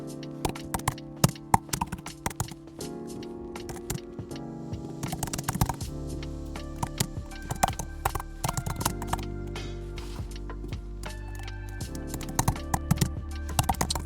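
Steady typing on a computer keyboard, quick irregular clicks and clacks in bursts with brief pauses, close and fairly crisp, with no voices.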